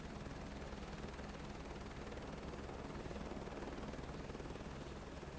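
A steady, loud helicopter engine drone in Microsoft Flight Simulator 2024 holds constant without a break, with no talk over it.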